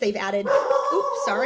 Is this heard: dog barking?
yes